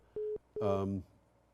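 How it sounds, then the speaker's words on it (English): During an online call, a phone gives a short steady electronic tone that is then cut off, followed by a second tone that a voice briefly overlaps. "Is that your phone, Tom?"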